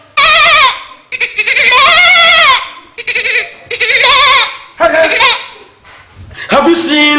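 A person loudly imitates a goat's bleat with several wavering, quavering vocal cries in bursts, separated by short pauses, very close and strong.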